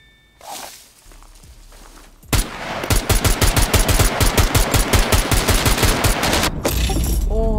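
Rapid bursts of automatic gunfire in the survival video game SCUM, loud and close, a brief pop followed by a dense rhythmic volley that runs several seconds before cutting off abruptly.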